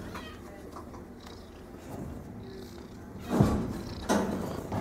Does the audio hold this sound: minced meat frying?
no